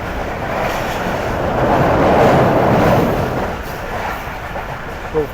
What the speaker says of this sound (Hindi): हमारी ट्रेन निकल गई है फाइनली